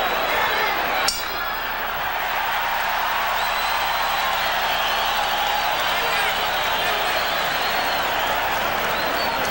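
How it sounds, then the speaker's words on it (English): Boxing arena crowd during a championship bout between Julio Cesar Chavez and Meldrick Taylor, a loud, continuous roar of cheering and applause with a sharp clink near the start. "the crowd begins to heat up as Julio Cesar Chavez turns up the pressure"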